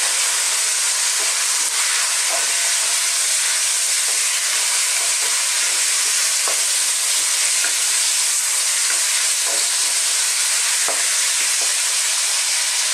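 Chicken sizzles steadily in a pan for Filipino ginataang manok, a loud continuous hiss of frying with faint scattered crackles and pops and no talking throughout.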